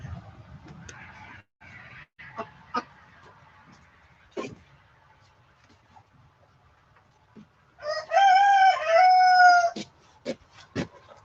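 Chickens raised for meat on a farm, with faint scattered clucks and soft knocks giving way to a loud, sustained burst of calling that lasts a couple of seconds, then more sparse clucks and taps.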